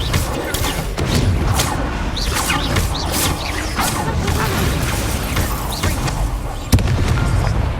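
Confringo and Incendio spell blasts in combat in Hogwarts Legacy on PS5, loud dense booms, crackles and impacts filling the mix, with a sharp hit near the end.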